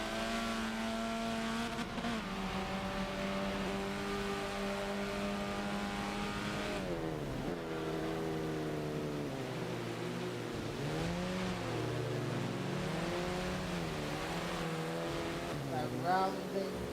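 Engines of race cars in a mini racing video game drone with steady pitch and shift as they round a corner, their tones sweeping up and down under continuous talking.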